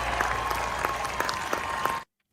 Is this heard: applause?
yes